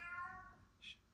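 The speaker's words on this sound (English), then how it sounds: "That's my cat." A house cat gives one drawn-out meow up close, followed by a short burst of noise.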